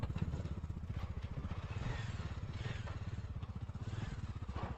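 A motorcycle engine chugs in a fast, steady, even pulse as the bike is worked out along a muddy, rough road near Pangong Lake in Ladakh, loud and close throughout with no talking.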